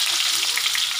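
Onions frying in hot oil with a spice tempering of mustard seeds and fenugreek for a fish-head curry, giving a steady, close, loud sizzle that fills the whole second.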